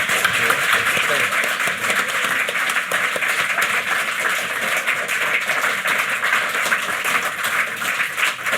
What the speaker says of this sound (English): Let's give him a Planet Normal round of applause.